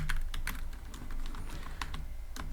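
Rapid, close clatter of fingers typing Python code on a computer keyboard, uneven keystrokes in quick bursts over a low steady background hum, no talking.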